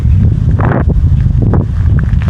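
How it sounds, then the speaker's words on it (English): Wind buffets the microphone in rumbling gusts, a low, rough roar that swells and eases over a couple of seconds. "The video might be kind of windy,"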